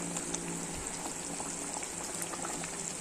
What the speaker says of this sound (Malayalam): ഇപ്പോൾ നമ്മുടെ ഗ്രേവിയൊക്കെ തിളച്ച് എണ്ണയൊക്കെ തെളിഞ്ഞ് വന്നു